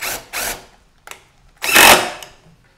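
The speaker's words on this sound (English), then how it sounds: "Going to connect these 2x4s with some 2-inch wood screws" Power drill driving 2-inch wood screws to join 2x4s for a jobsite table saw stand, heard as two short whirring bursts, a brief blip, then a longer louder drive, close and without talk.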